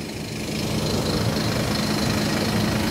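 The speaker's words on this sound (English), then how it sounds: "At the business end, Scania engine that's been retrofitted, upgraded to Euro 6." Scania engine on a 2009 N230 Omni City double-decker bus, retrofitted to Euro 6, idling with a steady, loud low rumble and constant broadband mechanical noise throughout.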